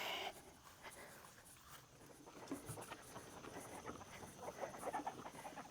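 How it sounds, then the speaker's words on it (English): Farm chicken clucking and murmuring in short repeated bursts, moderately close amid rustling outdoor background noise, with no talking. "This chicken keeps on getting out."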